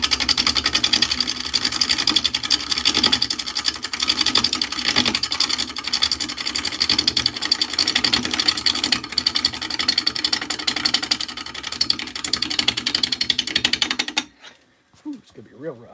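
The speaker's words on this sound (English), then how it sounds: "You can probably see the lathe is bouncing a little bit. We're only turning about 700 RPM right now." An unbalanced wood lathe spins at about 700 RPM, producing a loud, dense, rapidly pulsing mechanical rattle that runs continuously for about fourteen seconds, then cuts off abruptly into near silence.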